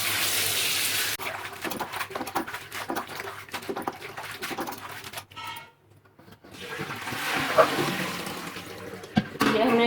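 Running water splashing into a cooking pot while guar bean pods are rinsed by hand in a home kitchen, a steady rushing pour that stops briefly midway then resumes, with a faint clatter near the end.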